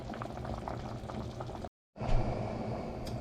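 Water boiling hard in a pot for rice and beans, a dense continuous bubbling rumble up close, broken by a short silent gap before resuming.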